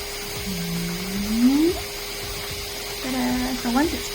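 An electric blower inflates an Aqua Marina Magma 2022 SUP board outdoors, its motor whining and rising in pitch in two bursts. A brief gap falls between them, and the sound stays close and moderately loud.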